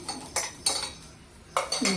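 Coconut pieces are tossed into a steel mixer jar, giving four sharp clinking knocks at irregular intervals, close and fairly quiet, with no talk.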